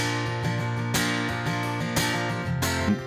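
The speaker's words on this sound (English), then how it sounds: "guitar strum through a capo" Acoustic guitar played with a capo, strummed in a rhythmic pattern with ringing chords and a few sharper accented strokes, heard alone.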